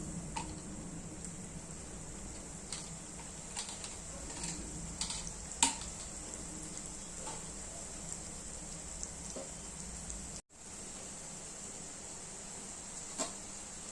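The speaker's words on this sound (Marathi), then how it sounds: "उरलेले फ्रेंच फ्राईज तळून घ्यायचे आहे" Leftover French fries fry in hot oil, a soft steady sizzle with scattered faint crackles and ticks, quiet and close, with one brief dropout partway through.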